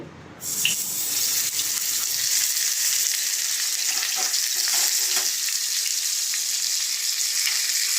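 Pieces of puti fish drop into hot oil, and a loud, close, continuous hiss of frying flares up after a brief quiet start and keeps sizzling steadily with no talking.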